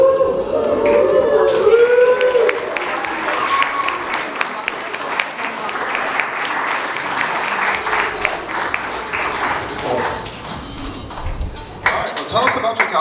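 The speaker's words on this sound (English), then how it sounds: "give them a big round of applause" An audience at a steampunk festival fashion show and cosplay contest claps in a sustained round of applause, a dense patter of hands with whoops and voices over it, fading slightly near the end.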